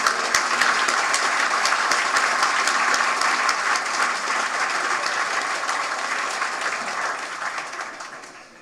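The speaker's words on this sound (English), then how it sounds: "so an extra applause to him." A conference audience gives loud, dense applause for a senior environment artist, a steady roar of many hands clapping that slowly fades away toward the end.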